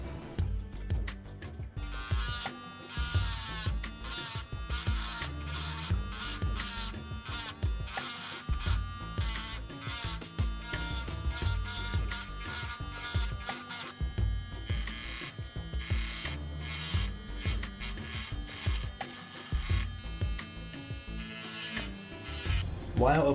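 A Dremel rotary tool grinds battle damage into a plastic MG Ez8 Gundam model kit, giving a steady high-pitched buzzing whine with rapid ratcheting fluctuations as it bites and lifts off the surface, continuous and close throughout.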